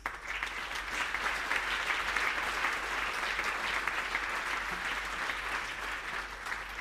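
Audience at a Made in Moris label tenth-anniversary celebration in Mauritius claps steadily, a dense, sustained round of applause from a crowd, fairly distant and even throughout.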